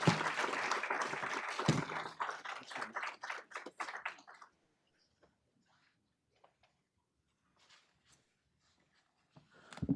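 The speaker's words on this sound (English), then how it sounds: "I think that deserves another round of applause." Audience applause at a policy event on employee share ownership, a dense, steady round of clapping that fades out after about four seconds and leaves near silence, with a brief burst of clapping returning at the very end.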